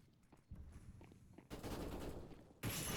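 Spammed gunfire in the CS:GO video game, rapid sustained bursts of automatic shots that start softly and grow louder, with a sudden loud burst at the end.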